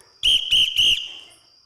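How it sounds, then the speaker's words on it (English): A whistle sounds during a Sherlock stage play, with three sharp, loud, shrill blasts in quick succession close by. The last blast fades into the room, and no one speaks. "A whistle?"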